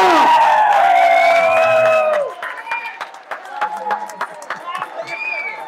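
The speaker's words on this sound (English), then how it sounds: "Please, big round of applause for the bride and groom." Wedding guests at a reception greet the bride and groom with loud voices and whoops, then break into scattered clapping that carries on under the crowd.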